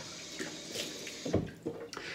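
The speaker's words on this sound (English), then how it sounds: "put some hot water on my face." Hot water runs faintly from a bathroom tap before a wet shave, with a soft trickle and brief splashes of water.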